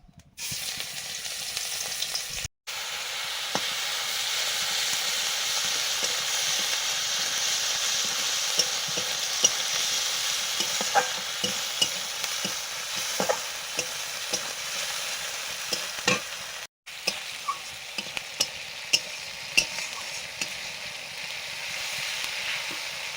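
Ginger-garlic-onion paste with Kashmiri chilli, red chilli and turmeric powder fries in a pan, giving a continuous close sizzle with scraping stirs and brief gaps in the sound.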